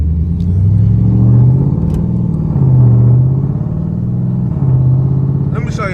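A 2006–2010 Dodge truck driven after brake repairs with a replaced master cylinder, its engine rumbling close and loud in low, rising and falling surges as it accelerates, with a voice speaking briefly over it.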